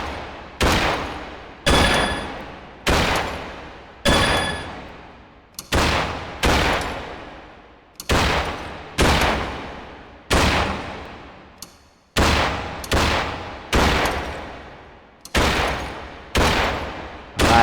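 Rapid bursts of gunfire from a shooting video game, repeated volleys each about a second long with sharp attacks and decaying tails, loud and close, continuing steadily without pause.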